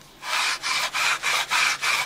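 Sandpaper is rubbed back and forth over an ebony fretboard for a Trace Elliot T bass, making six steady, close strokes of coarse hissing scrape with no talk.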